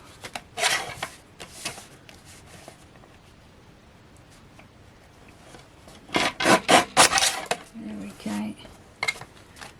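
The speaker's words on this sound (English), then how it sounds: "if I bring my guillotine in, I should be able to just straighten that up" A paper guillotine trims craft card, with a few scattered rasping slides early and then a louder cluster of sharp cutting scrapes near the end, close by with no talking.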